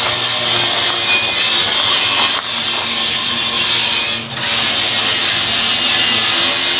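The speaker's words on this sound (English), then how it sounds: "It's noisy over there with the sanders" Sanders work on a sailboat's rudder bushing, making loud, continuous close-up abrasive hissing with two brief dips in the noise.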